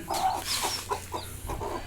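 A chicken, among sick chicks pecked by other hens, gives a few short, soft clucks in quick succession, close by and fairly quiet.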